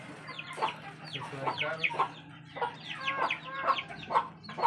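Free-range village chickens cluck in a repeated, close series of short calls, several birds overlapping steadily, with no speech.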